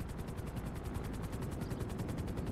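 A stolen helicopter in the video game GTA thrums with a fast, steady rotor chop throughout, loud and close, its rhythmic pulsing filling the whole stretch.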